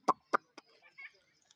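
A rooster at a zoo park in Russia gives a few sharp, close clucks, two strong ones in quick succession followed by softer, scattered calls, with quiet gaps between them.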